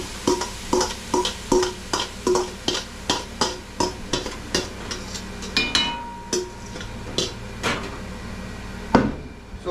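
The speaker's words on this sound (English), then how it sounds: "Now we're gonna go with pretty good pile of onions in there." A large pile of seasoned onion blend frying in a pan and being stirred: regular scraping strokes of a utensil against the pan repeat in a steady rhythm over a soft sizzle, ending with one louder knock.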